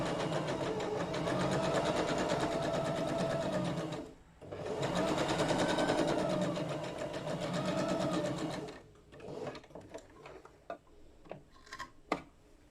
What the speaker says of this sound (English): Lower your presser foot, lower your needle, and then slowly do your zigzag.